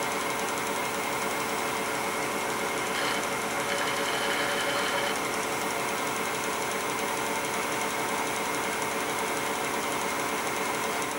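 A lathe turning a workpiece on centers at 600 RPM, giving a steady, loud mechanical whir with a fast repeating rattle that runs unbroken throughout.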